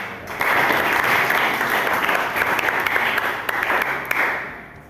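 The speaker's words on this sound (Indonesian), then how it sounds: "Kita berikan tepuk tangan untuk" Applause from a classroom audience during an Islamic religious education lesson, dense steady clapping close by that starts abruptly and holds for several seconds before tapering off.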